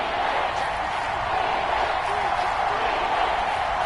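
A stadium crowd at a Seahawks football game roars steadily and loudly in the red zone, a dense sustained wall of fan noise with no breaks.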